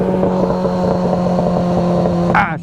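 A motorcycle engine runs loud and close with a steady throbbing idle, then briefly revs upward right at the end.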